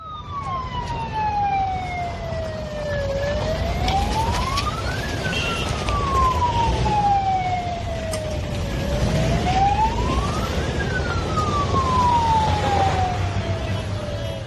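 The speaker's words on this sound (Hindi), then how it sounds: "सायरन बजती हुई गाड़ी जा रही है" A loud siren wails up and down in long repeating sweeps as a vehicle passes close by, with road noise underneath.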